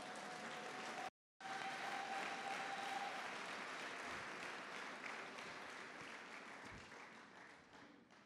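A church congregation applauding steadily in a dense, continuous wash of clapping, with a brief dropout near the start and a slight fade toward the end.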